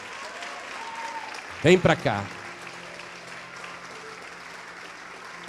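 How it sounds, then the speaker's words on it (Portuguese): A church congregation at Igreja Paz e Vida keeps up steady, distant applause while a man calls out briefly over it. "vamos aplaudir mais ao nome do Senhor"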